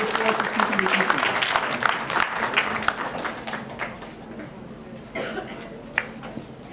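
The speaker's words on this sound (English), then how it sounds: "let's give Mr. Muhammad a round of applause" An audience applauding after a speaker at a district event in Mount Vernon, Illinois, scattered claps mixed with coughs and a voice speaking over them, tapering off toward the end.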